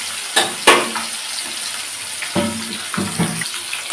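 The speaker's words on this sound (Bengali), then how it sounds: "আমি হালকা করে ভেজে নেব।" Katla fish pieces fry lightly in hot oil with a steady, close sizzle, punctuated by a few sharp clatters from the pan.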